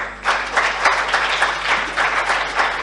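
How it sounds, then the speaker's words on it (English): An audience at a gospel stand-up comedy show applauds the choir, loud sustained clapping from a crowd with a rhythmic pulse, close and filling the whole moment. "Round of applause for the choir, please."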